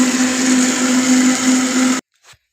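A blender blending juice whirs loudly and steadily for a couple of seconds, then cuts off abruptly, followed by a faint clink.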